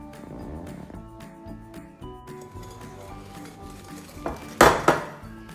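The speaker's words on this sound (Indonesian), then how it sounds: "Sekarang kita tambahkan campuran tepungnya. Terus kita kocok lagi hingga tercampur rata." Choux pastry dough is whisked with a flour mixture in a bowl, making steady rhythmic clinking and scraping against the bowl, with a few sharper knocks near the end.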